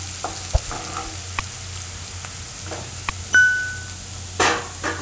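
Garlic and green chillies fry in a pan over a lowered flame for a yogurt-based papdi vegetable dish, a soft steady sizzle with a few sharp spatula clinks and bursts of crackle, close up and without speech.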